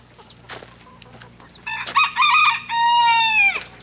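Chickens cluck nearby, then a rooster lets out a loud, drawn-out crow close up, with another crow overlapping toward the end.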